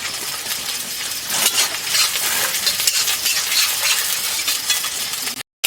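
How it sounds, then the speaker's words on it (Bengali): An egg fries in a hot pan for Maggi noodles, giving a loud, dense, continuous sizzle that holds steady close to the listener before cutting out briefly near the end. "ডিমটাকে ভেজে নিচ্ছি"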